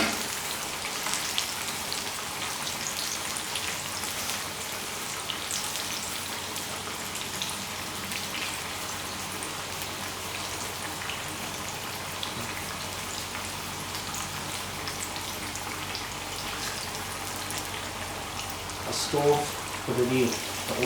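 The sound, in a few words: chicken pieces in flour batter frying in oil in a wok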